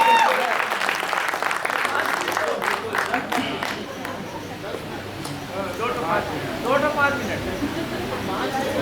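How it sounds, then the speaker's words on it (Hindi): Crowd applause at a Hindi poetry gathering, a kavi sammelan in Bilaspur, spreading as a dense clatter of hands over murmuring voices, then thinning as a voice talks over it. "एक बार जरा ताली बजा करके मुझे बताएं।"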